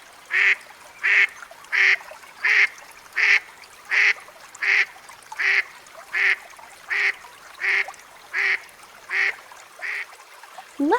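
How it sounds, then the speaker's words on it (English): American black duck (Anas rubripes) quacking in a steady series of about sixteen evenly spaced, loud, close calls, each a short nasal quack, with no other sounds. "American black duck,"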